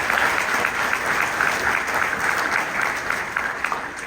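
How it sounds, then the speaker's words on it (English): Sustained applause from a banquet audience at the 19th annual CAIR-Sacramento dinner, a dense, steady wash of many hands clapping that holds at an even level throughout. "Please give yourselves a round of applause."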